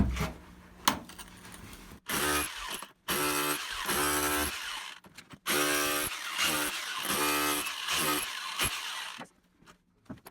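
Bosch Bulldog Xtreme 11255VSR SDS-Plus rotary hammer chiseling concrete, loud close bursts of rapid pounding separated by short pauses, with scraping and clattering debris in between.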